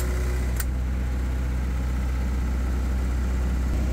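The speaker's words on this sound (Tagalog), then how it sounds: "So dapat magta-turn off yung ating generator." A 20 kW generator engine runs steadily during a transfer switch test, giving a constant loud low hum and drone with no breaks. A single short click sounds near the start.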